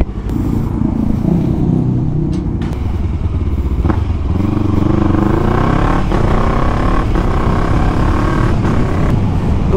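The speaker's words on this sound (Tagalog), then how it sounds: "Isang rev bomb naman with silencer." A Yamaha MT-03 motorcycle with a silencer fitted, revved hard in a rev bomb: loud, close engine roaring and climbing through repeated throttle blips with some clattering knocks, no talking.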